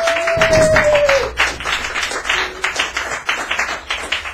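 Audience at a long-running San Francisco open mic in a cafe claps in a loose, steady patter of hand claps, fairly close and continuous, with a brief tonal whistle-like sound early on.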